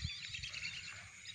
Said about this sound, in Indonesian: Ada burung datang lagi kawan.